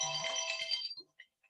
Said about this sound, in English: it was my telephone